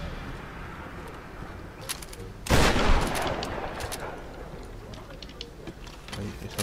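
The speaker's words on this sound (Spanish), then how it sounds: "Ay, esa escopeta rápida ahí, ¿eh?" A shotgun in the Tomb Raider video game fires in a loud, sudden blast followed by a few sharper, rapid reports, all over a murky game background.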